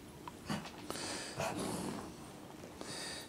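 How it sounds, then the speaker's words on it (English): Lily, a dog, making low snorting, breathy growls in short uneven bursts, quiet and close, with small sniffs between them and no talking. "Lily's growling about something."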